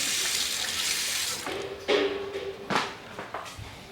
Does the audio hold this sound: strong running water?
yes